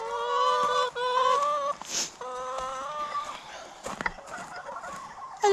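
Homestead chickens cluck and squawk in a busy, close chorus as they follow along outdoors in winter, with calls overlapping and breaking off in bursts.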